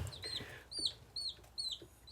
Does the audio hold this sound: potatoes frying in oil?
no